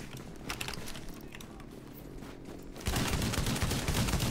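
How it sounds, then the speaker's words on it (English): Gunfire in The Division, dense rapid shots crackling through the first half, then a louder, harsher burst of fire and impacts taking over near the end, close and continuous with no talk. "I'm getting sniped by something?"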